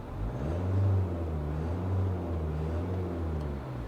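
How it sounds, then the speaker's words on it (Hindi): Diesel engine of a 2022 Mahindra Scorpio-N Z8L automatic heard from inside the cabin, a low steady rumble that swells briefly as the throttle is tapped, then settles back to a muffled idle-like drone. "तभी भी आपको हल्का सा डीजल क्लैटर कैबिन में सुनाई देता है. Specially if you tap the throttle pedal"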